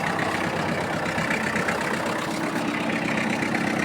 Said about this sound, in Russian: Моторчик работает мягенько.